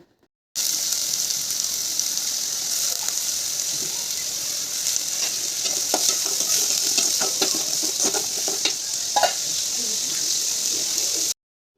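Small shallots and onions with curry leaves sizzle steadily in hot oil, with frequent scraping and stirring clicks from a spoon against the pan.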